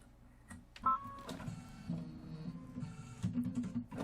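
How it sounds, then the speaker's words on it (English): An embroidery machine with white thread stitches the placement line for flowers on a seasonal quilt block, a quiet, busy mechanical chatter with rapid rhythmic whirring and clicks, close by with no talk. "Now it's going to stitch out the placement line for the 2 white flowers."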